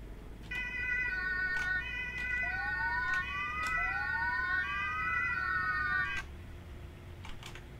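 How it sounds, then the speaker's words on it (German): A distant siren in the video game BeamNG Drive wails, its rising and falling tones sounding for several seconds over a steady rumble, then cutting off, with brief clicks at the end. "ganz leise, glaube ich, die Sirene im Hintergrund."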